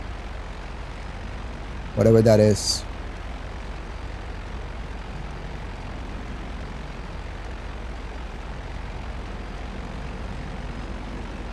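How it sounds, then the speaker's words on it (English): Jet engines in the video game GTA Online give off a steady, unbroken roar at moderate loudness, with a short spoken remark near the start. "Sounds like a jet engines."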